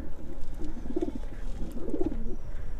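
Pigeon sitting on its nest of eggs, giving soft low cooing in two short close phrases over a faint background murmur.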